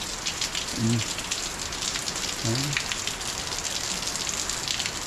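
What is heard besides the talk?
rain falling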